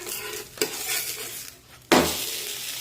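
Dahi dhapate flatbread being flipped in a hot pan, with a steady broadband sizzle, a couple of sharp clatters of the flip and a louder burst of frying near the end.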